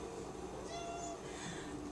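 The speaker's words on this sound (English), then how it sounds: "there's my cat" A house cat meows softly indoors, a drawn-out mew heard alone and fairly close, at moderate volume with no talking.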